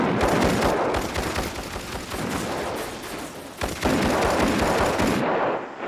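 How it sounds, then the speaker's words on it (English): A dense, continuous hail of gunfire from an ambush by a posse, rapid overlapping shots roaring without pause for several seconds, loud and close, before cutting off abruptly. "They are killed from ambush in a hail of gunfire by Texas Ranger Frank Hamer and his posse."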